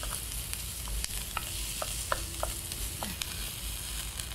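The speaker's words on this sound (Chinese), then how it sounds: "首先我们先把那个洋葱丁放下去，因为它要把甜分炒出来就需要一点时间" Diced onion stir-frying in a pan at the start of a salmon and vegetable rice dish: a steady, close crackling sizzle with repeated scraping clicks from a utensil stirring, and no voices.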